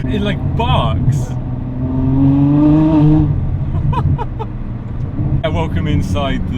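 A Ferrari F12 engine revs and barks with a rising then falling drone and sharp bursts, loud and close, with someone talking over and between the revs.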